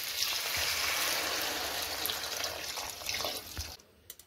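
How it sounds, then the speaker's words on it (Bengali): Water poured onto vegetables frying with salt and turmeric in a pan, a steady hissing, splashing pour close by that runs for a few seconds and then tapers off into a few faint drips. "সবজিতে জল ঢেলে দিয়ে"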